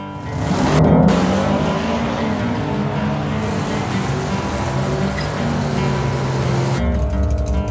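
A Chevrolet Malibu daily-driver drag car launches hard on nitrous down an eighth-mile strip, its loud engine roaring steadily and close for several seconds, with no talk over it.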